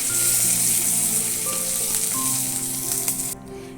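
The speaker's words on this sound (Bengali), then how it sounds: "এবার কড়াইতে তেজপাতা আর গোটা জিরে দিয়ে দিচ্ছি।" Bay leaves and whole cumin seeds sizzle steadily in hot oil in a wok, a dense continuous frying hiss with faint stirring clinks, cutting off near the end.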